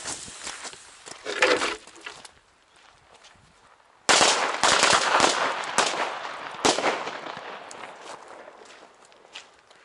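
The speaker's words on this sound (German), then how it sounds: "Das ist von Funke, eine kleine Knallkette mit Matchtape." A small Funke firecracker chain with match tape goes off outdoors at New Year's, loud rapid crackling bursts in two main volleys separated by a short lull, then tapering off.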